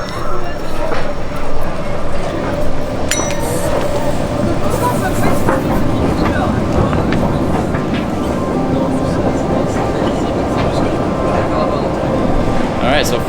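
Belgian metro train running with steady broadband rumble and rail noise throughout, a few brief clanks and squeals on top, with voices faintly present.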